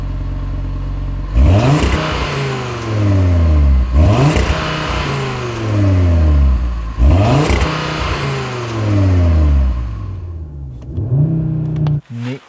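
A stationary Audi RS3's five-cylinder engine is revved hard in repeated bursts, climbing to a rasping peak and dropping back to idle about four times, loud and close with no talk.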